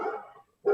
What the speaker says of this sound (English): Sorry, there's my dog.